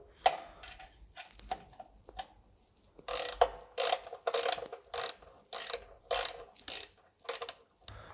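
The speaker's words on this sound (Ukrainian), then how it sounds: "Беремо ключ на 18 та відкручуємо 4 болти на кормі." An 18 mm wrench ratchets repeatedly while unscrewing bolts on a boat's stern, giving close, sharp bursts of clicking separated by short pauses, with no talk.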